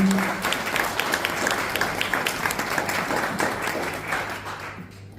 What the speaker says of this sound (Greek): Παρακαλώ να δώσουμε ένα θερμό χειροκρότημα στην Ελευθερία Αποστολίδου.